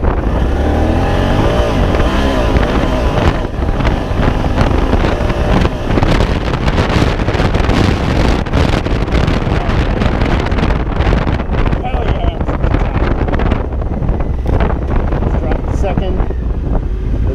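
Riding a Kawasaki Z650 motorcycle produces a steady, loud roar of wind buffeting the microphone, with the engine rumble buried underneath it for the whole stretch.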